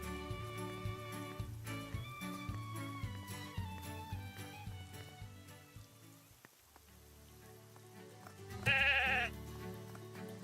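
Sheep bleat repeatedly over a steady backing of synthesized game music in The Good Life, one bleat rising loud and close near the end.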